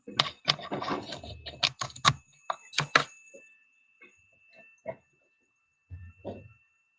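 Someone types on a computer keyboard during an online meeting, a quick burst of sharp clicks up front, then sparse, quieter taps with gaps of silence, heard close to the microphone.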